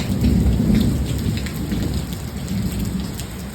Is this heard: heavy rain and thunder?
yes